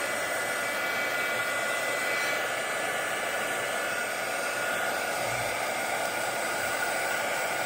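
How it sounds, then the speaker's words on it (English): A heat gun blows steadily to dry paint on a small kitten-themed art card, a loud, close, even whooshing roar that runs without a break and with no talk. "I'm going to hit this with the heat gun just a little bit"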